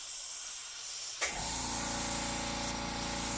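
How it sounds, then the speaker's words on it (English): An air compressor running in an airbrushing workspace kicks on abruptly with a loud steady hiss and hum, then keeps droning close by with a brief dip near the end. "There's an air compressor running through the pipe."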